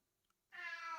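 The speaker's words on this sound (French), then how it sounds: "Mon chat n'est pas d'accord." A house cat lets out a single close, clear meow that rises in abruptly after a near-silent moment, ringing with a strong tonal, harmonic quality.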